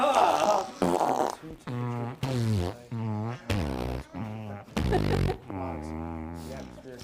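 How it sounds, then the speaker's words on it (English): A string of comic fart noises plays from an iPhone off YouTube, about eight buzzy, tonal blasts of varying pitch and length, loud and close, with no talking. "funny fart noise on YouTube"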